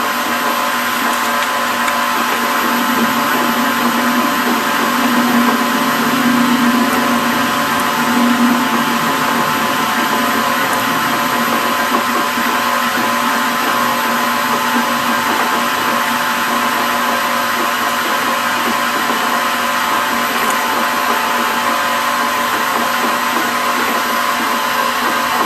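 Continuous loud whine of a power drill boring into a 1/8 scale RC stock car wheel, steady and close for the whole stretch, with slight shifts in pitch as the bit works through the material.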